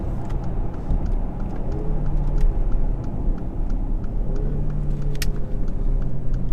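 Engine of a 2017 Mercedes GLE43 AMG pulling under acceleration while driving, a loud rumbling drone with rising and falling revs beneath road noise, no talk.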